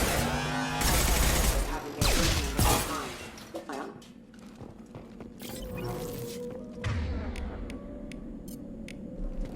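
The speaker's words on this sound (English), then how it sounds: "We're compromised. Taking fire." Gunfire in Mass Effect 2 on Omega, a loud burst of shots and crashing impacts early on, then scattered sharper shots and mechanical clanks, with voices talking in between.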